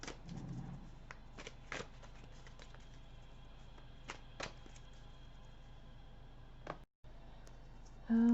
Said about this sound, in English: So, pull some cards here.